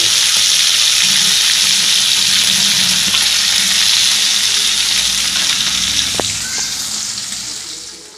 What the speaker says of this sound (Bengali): মাছগুলো সব আমি ঠিক এরকম করে ভেজে নিলাম।